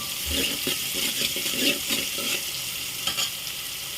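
Asafoetida being stirred into food in a pan while cooking greens and rice: soft scraping strokes over a quiet frying sizzle, repeated in short irregular bursts, close and fairly gentle, with no talk.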